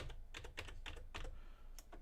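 Quick, light keystrokes of a password being typed on a computer keyboard fall in a rapid uneven run of about a dozen clicks, with a short pause near the end, quiet and close with no voices.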